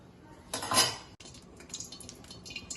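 A lid is set over a pot of cooking chole masala: a bright metallic clank of the lid landing, then a short stretch of light clinks and quiet rattles, close and fairly soft.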